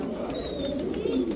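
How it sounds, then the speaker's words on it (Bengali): Lahori pigeons kept for sale coo softly nearby in a brief, low, throaty murmur that rises slightly toward the end, with no one talking. "বেবি সহ এই লাহোরি কবুতরগুলো আপনারা সংগ্রহ করতে পারবেন"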